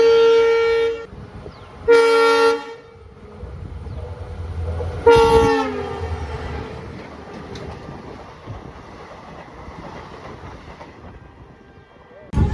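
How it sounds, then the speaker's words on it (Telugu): A weekly express train from Visakhapatnam to Kollam runs at cruising speed in the rain, sounding three loud horn blasts in the first half over a steady low rail rumble that continues alone afterward. "మన ట్రైన్ క్రూజింగ్ స్పీడ్ అయితే ఇదనమాట"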